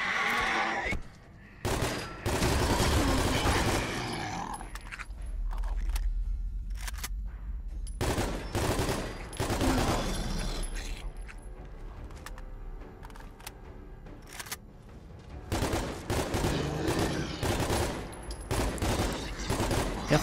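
Heavy-recoil gunfire in the Fallout 4 video game, with loud bursts of shots repeating across the scene alongside other game noise and occasional faint voices.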